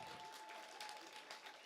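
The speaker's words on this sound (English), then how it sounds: "Keep that applause going for my friend over here for being such a good sport" An audience claps steadily at a comedy magic show at the Irvine Improv, a dense, even wash of applause filling the whole short stretch, with a faint tone running through it.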